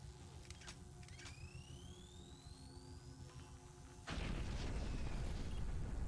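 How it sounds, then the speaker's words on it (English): A grenade going off in Doom 3: a rising whistle of the thrown grenade over a steady mechanical hum, then a sudden loud, rumbling blast that stays heavy and noisy until the end. "Grenade."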